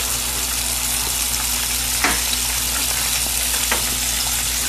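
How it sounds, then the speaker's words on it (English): Chicken wings crackle and sizzle steadily in hot oil while deep-frying, with a couple of brief louder pops. "So we got our chicken wings frying."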